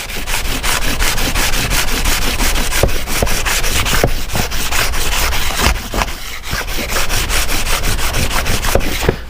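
Abrasive rubbed back and forth over a worn screwdriver handle, loud close rhythmic scratchy strokes continuing without pause and no voices.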